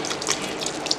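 Soy sauce pours steadily into a cooking pot, a soft, continuous liquid trickle and splash heard up close for about a second, with no talking.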